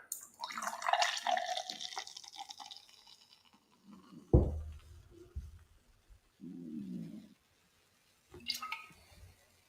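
Bud Light Platinum beer pours with a hissing, splashing rush, then trickles and drips, followed by scattered soft clinks and a faint fizzing crackle near the end.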